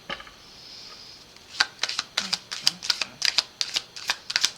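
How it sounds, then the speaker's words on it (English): Quick crisp riffling of tarot cards being shuffled, a run of sharp snapping flutters in steady succession, close and fairly loud. "I'm going to shuffle these cards."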